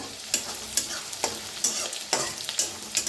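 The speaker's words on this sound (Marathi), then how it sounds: "आता छान याला भाजून घेऊया छान भाजलेलं आहे" Masala roasting in a pan for fenugreek curry, with a steady sizzle and about eight rhythmic spatula scrapes across the pan, close and fairly loud.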